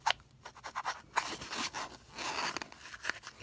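Light scratchy rubbing in quick uneven bursts as an eraser scrubs a pencil mark off a Dollfie Dream doll up close, with short pauses between strokes.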